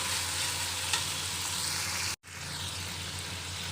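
Shrimp sizzle steadily in a hot pan for pinakbet, a dense broadband frying hiss broken by one brief cut partway through, with no talking.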